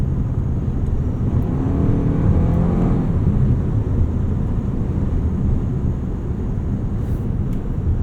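Toyota RAV4 GR Sport's 2.5-liter engine while driving, a smooth steady low hum with road and wind rumble, fairly loud and continuous from inside the cabin, no talking.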